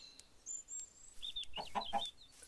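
A chicken in a video game clucks in a short run of bright calls, with a few chirpy notes first, close and fairly clear over a quiet background.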